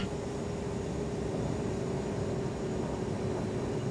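A Coast Guard Falcon jet on its landing approach fills the space with a loud, constant broadband roar and a faint steady tone, heard unbroken from inside the aircraft.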